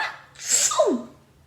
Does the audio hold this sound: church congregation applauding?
no